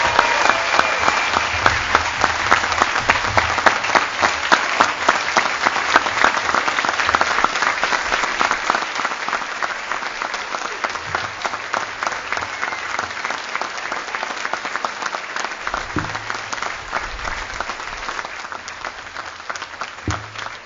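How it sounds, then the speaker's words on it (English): A large audience at a school prize day ceremony gives a long, rousing round of applause, dense and continuous clapping that stays strong and gradually eases over about twenty seconds. "give them a round of applause and make it rousing"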